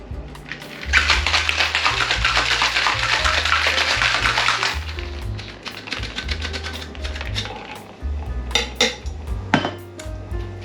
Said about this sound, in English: Now give this a good shake.